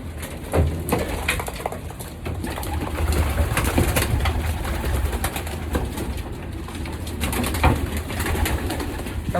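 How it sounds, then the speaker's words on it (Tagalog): Pigeons in a breeding loft coo steadily, and soft rustling and shuffling run through the soft, low calls for the whole stretch. The birds are close, and no voices are heard. "ito po ang kanya mga kalapate"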